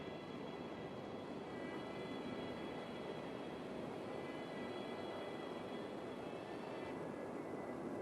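A steady, continuous engine drone from an aircraft coming in to land in a video game, a broad rushing roar with a faint whine layered on top, holding at an even, fairly quiet level throughout with no speech.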